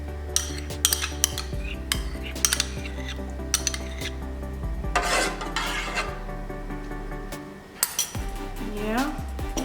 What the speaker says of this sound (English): we're going to mix this with the starter we just made